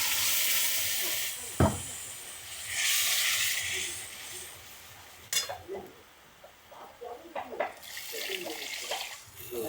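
Water poured into a pan of fried spice masala makes a gushing, hissing splash with sizzling bursts. A later stretch brings spattering, bubbling crackles and stirring noises, all moderately loud and close, with no voices.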